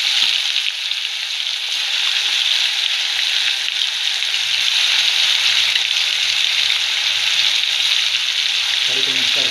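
Marinated chicken 65 pieces deep fry in hot oil, giving a loud, dense, continuous sizzle close up that never lets up.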